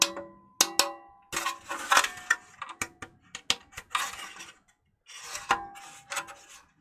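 Back cover being fitted onto a Hitachi TRK-510ER radio: a run of sharp clicks, knocks and scraping rubs from a casing that rings almost metallic, close and irregular, with short pauses between bursts.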